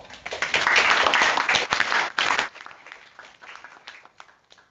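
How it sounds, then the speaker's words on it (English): An audience at a conference announcement claps loudly in a dense burst of applause lasting about two seconds, then tapers off into scattered, fading claps. "just in case you wondered why everybody's clapping"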